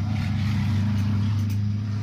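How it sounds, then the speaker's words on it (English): A vehicle passes on the street outside on a busy evening, heard as a steady low engine rumble that stays fairly constant and moderately loud. "Sorry about the noise everywhere."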